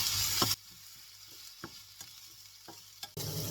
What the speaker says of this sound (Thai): ใส่หอมใหญ่ลงไปผัดก่อน